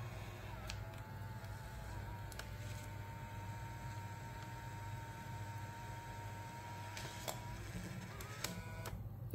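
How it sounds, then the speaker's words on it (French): Fujifilm Instax Share SP-2 printer printing a photo, a faint steady mechanical hum with soft whirring and a few small clicks, quiet and close. "Je fais imprimer."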